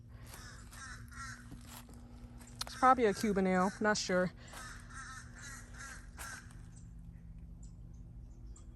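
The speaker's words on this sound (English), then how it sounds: "There's a crow making so much noise." A crow caws several times in a quick harsh burst midway, loud and fairly near, in a Florida backyard garden, while a person talks before and after.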